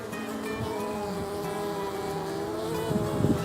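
Honeybees carrying bright orange pollen drone steadily around a hive entrance, a close, continuous buzz that swells slightly near the end.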